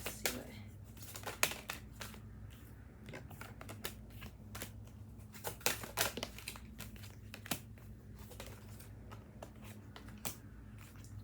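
Archangel oracle cards being shuffled by hand, a steady run of soft papery riffles and crisp slaps close up, repeating for several seconds with no talking.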